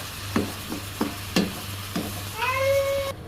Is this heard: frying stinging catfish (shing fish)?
yes